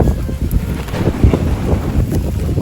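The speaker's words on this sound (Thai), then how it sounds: "เดี๋ยววันนี้เนี่ย ลมแรงมากเลยครับ" Strong wind blowing outdoors on a Thai bamboo farm in the rainy season, buffeting the microphone with a loud, continuous low rumble and gusty roar throughout.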